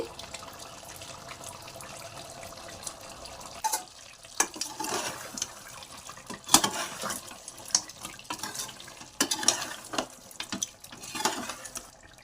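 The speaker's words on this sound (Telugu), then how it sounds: "ఇలాగే నీళ్ళు ఇంకిపోయేదాకా స్టవ్ ఫుల్లో పెట్టుకోండి" Farm chicken fry cooking in a pan on a stove at full flame while its water boils off, giving a steady wet bubbling and sizzling with intermittent louder clatters and stirring scrapes.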